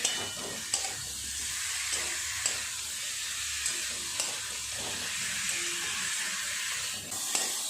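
Fried vegetables being stirred with masala in a pan, a continuous moderate sizzle with soft, regular spatula taps and scrapes about once a second, fairly quiet and unaccompanied by voices.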